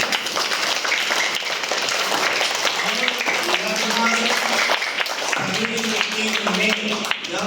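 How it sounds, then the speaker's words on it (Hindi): Loud, sustained applause from an audience of parents and teachers at a school parent-teacher meeting, dense clapping throughout with voices talking over it in the latter half. "फिर जोरदार ताली बजा दी"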